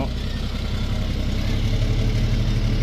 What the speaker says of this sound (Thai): เสียงท่อมันลุงล่งๆเลย